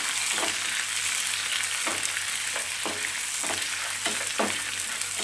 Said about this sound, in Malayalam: ഇതിലേക്ക് നമുക്ക് സവോളയും കൂടെ ഇട്ട് കൊടുക്കാം. അതും ചെറുതായിട്ടൊന്ന് മൂത്ത് വരട്ടെ.